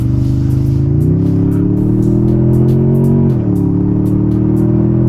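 A 2024 Toyota Tundra TRD Pro pickup accelerates hard, with a loud, steady engine drone that climbs in pitch, drops at a gear change, then pulls again. No one talks.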